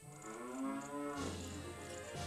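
A cow moos in The Legend of Zelda: Ocarina of Time on Nintendo 64, one long, faint, sustained low call heard alone over quiet game ambience.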